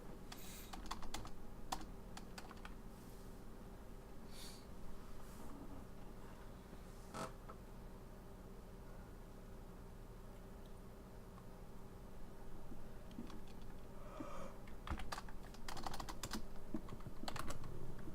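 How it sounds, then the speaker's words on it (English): Steady typing on a computer keyboard, with bursts of key clicks over a low background hum and no voices. "You're typing out literally what I was about to start typing."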